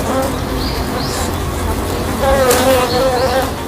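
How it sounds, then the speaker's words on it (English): Honeybee swarm buzzing densely around a trapped wasp, a steady close drone of many wings vibrating, swelling slightly louder toward the end with no voices. "the swarm of bees engulfing the wasp is getting warmer and warmer"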